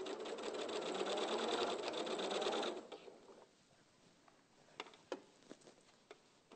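Sewing machine stitching a dart in fabric, a close, steady motor whir that runs for about two and a half seconds and then stops, followed by quiet handling clicks and light taps.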